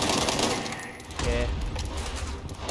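Rapid gunfire from a free online shooter video game, a dense continuous volley of shots at moderate loudness, with a player talking over it.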